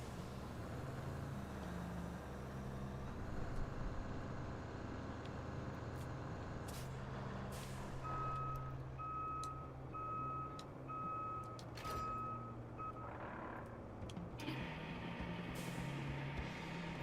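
A heavy truck in the road-building game Roadcraft rumbles past with a steady engine drone. Reversing beeps repeat in a regular pulse midway through, and an air-brake hiss is heard near the end, all fairly loud and continuous.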